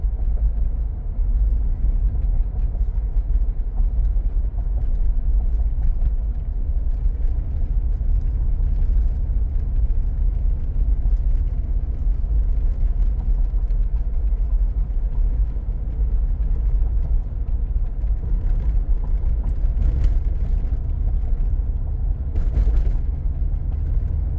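Engine of a 2018 Mercedes-Benz G 63 AMG droning steadily from inside the cabin while driving, a low continuous rumble with mild whir and gentle rises as it shifts, no voices.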